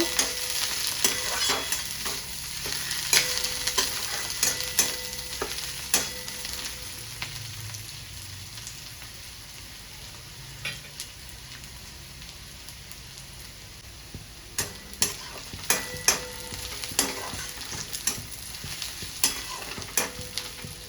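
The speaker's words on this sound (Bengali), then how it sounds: "পেঁয়াজটা নেড়ে চেড়ে একটু লাল করে ভেজে নেব।" Onions fry in hot oil for a home-style Bengali chicken dish, stirred until reddish, giving a steady close sizzle broken by irregular spatter crackles and scraping stirring strokes that get busier toward the end, with no talking.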